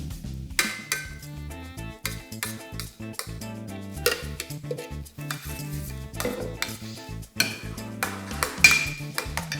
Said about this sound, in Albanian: me të bardhat e vezës, me anë të një luge, e shtojmë në kos